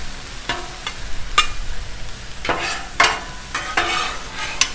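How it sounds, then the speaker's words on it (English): Onion and broccoli stir-fried on a Blackstone griddle, a loud close sizzle broken by repeated metal spatula scrapes and tosses in an uneven rhythm. "Let's get this onion involved with the broccoli."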